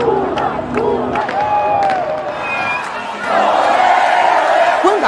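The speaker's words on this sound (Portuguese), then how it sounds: "multidão vai às ruas para comemorar a terceira vez do ex-metalúrgico no comando do país" A dense crowd celebrating in the streets of Brazil after Lula's election win, loud continuous cheering and chanting with shouts and whistles, swelling louder toward the end.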